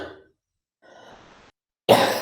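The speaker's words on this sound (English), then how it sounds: "I'm gonna cough." Two separate coughs from one person, a short one at the start and a louder, sharper one at the end, with a softer breathy sound between.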